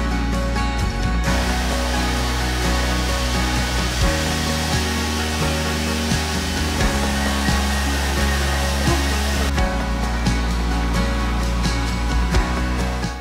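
A hair dryer roars loudly and steadily, its pitch shifting briefly as it is moved or switched between settings.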